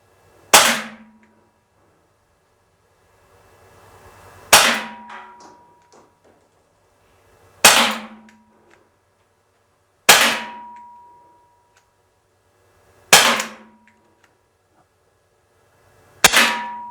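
An Umarex T4E S&W M&P9 M2.0 .43 caliber paintball pistol fires six sharp single shots at a target, each a loud crack with a short metallic ring, spaced a few seconds apart with quiet between.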